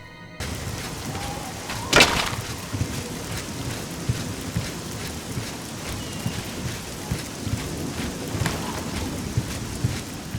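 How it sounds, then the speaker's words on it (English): Pouring rain in the video game Oblivion, a steady loud hiss of rainfall with a sharp crack of thunder early on and scattered heavier drops throughout. "And as the rain pours, he bolts down the anvil docks,"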